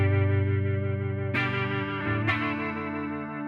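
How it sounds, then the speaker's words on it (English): Guitar through a Fender Champion 50XL amp on its rotary-speaker, uni-vibe style setting: sustained chords swirl and pulse in a wobbling modulation, with two fresh strums, played alone. "this has got kind of like a rotary speaker effect, like a uni-vibe sort of setting"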